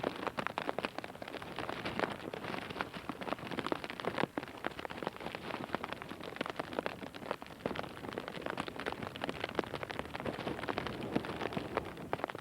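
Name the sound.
rain falling on a beach during a storm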